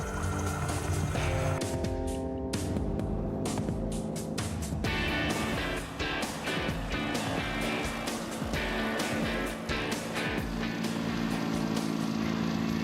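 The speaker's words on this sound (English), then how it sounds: "Scotty and Jamie take the new trailer whaler for a spin, a very slow spin" The motorboat engine of a trailer whaler boat drones steadily and loudly throughout, a continuous close rumble overlaid with water and wind noise.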